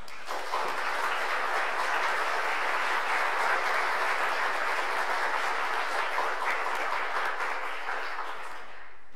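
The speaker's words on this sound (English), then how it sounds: "I want to pause here and ask you to give them a round of applause." A congregation applauds, a broad, even wash of many hands clapping that holds steady for about eight seconds before tapering off at the end.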